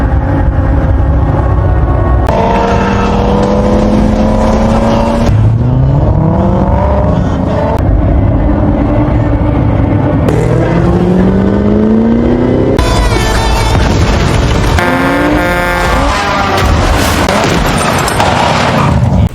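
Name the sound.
Ford Mustang car speeding and revving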